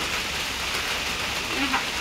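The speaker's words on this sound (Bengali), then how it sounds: "বৃষ্টি নামছে, বৃষ্টি হইতেছে" Rain falls outdoors, a steady even hiss of drops on surfaces filling the short stretch, with a faint brief sound near the end.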